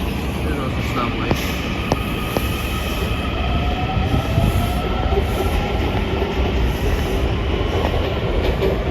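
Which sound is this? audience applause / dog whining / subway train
subway train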